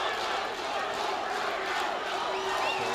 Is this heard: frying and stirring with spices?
no